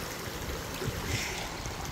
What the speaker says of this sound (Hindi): क्या मस्त जा रहा है ना पानी भाई